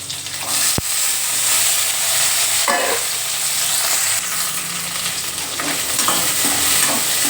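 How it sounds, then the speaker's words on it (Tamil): Small onions and peeled garlic frying in hot oil for a garlic pepper kuzhambu, giving a steady close sizzle with occasional stirring clatter throughout, no voices. "வெங்காயத்தை போட்டுருவோம், சின்ன வெங்காயம். உரிச்சு வச்சுருக்க பூண்டு"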